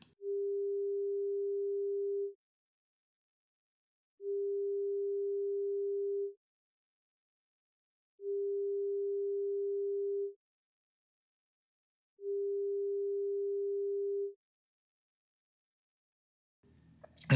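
Pure sine test tone for a binaural masking level difference demonstration, played alone as four steady beeps of about two seconds each with even gaps, clean and moderately loud against silence.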